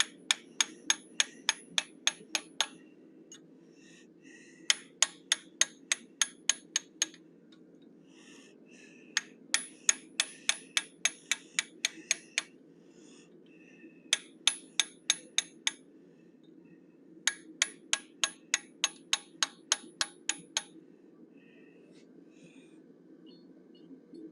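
A hammer drives an eighth-inch fuller to texture a forged animal head, ringing out in five quick bursts of sharp, evenly spaced metallic strikes separated by short pauses over a low background hum.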